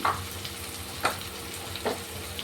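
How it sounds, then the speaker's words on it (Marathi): Tomatoes frying in a pan for a village-style spicy matki rassa, a steady low sizzle with a few louder stirring scrapes spaced about a second apart, close and without speech. "टोमॅटो फ्राय होते"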